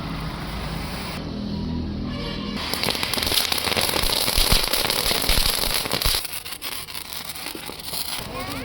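Diwali firecrackers burst in a dense, continuous barrage of loud crackling and popping bangs at a family children's celebration, close by and sustained throughout.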